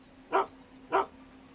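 Two short, sharp dog barks about half a second apart, fairly close and clear against a low steady background hum, from a dog in the video game Gold Mining Simulator.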